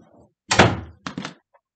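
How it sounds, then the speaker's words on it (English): A door is pushed shut with a soft thunk indoors, followed by a couple of quieter latch and handle clicks close by. "Can you close the door?"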